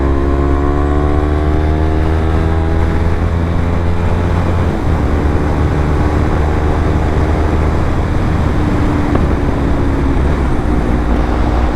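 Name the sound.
Yamaha R3 motorcycle engine while riding and passing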